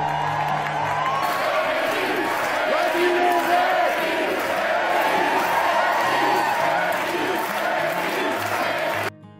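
Large concert audience at the Ryman Auditorium rising to its feet, a loud sustained roar of cheering, whoops and shouts filling the hall before cutting off abruptly at the end.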